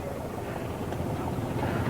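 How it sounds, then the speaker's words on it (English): A tractor at the 1994 Red Power Roundup engine show idles steadily with a low, continuous rumble, loud and close, with outdoor wind noise mixed in and no distinct changes over the short span. "this tractor here is running just perfect"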